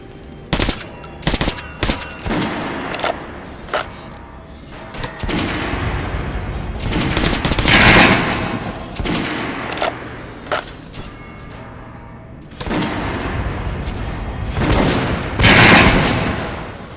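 Sustained gunfire in Metro: Last Light Redux on Ranger hardcore survival mode: dense bursts of automatic fire and rattling volleys, loud and near, swelling in two heavy waves with scattered single shots between.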